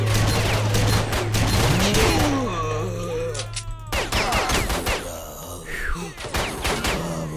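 Bursts of gunfire echo through underground tunnels in the video game S.T.A.L.K.E.R.: Shadow of Chernobyl, with rapid repeated shots, thuds and creature groans in a dense, loud, reverberant mix.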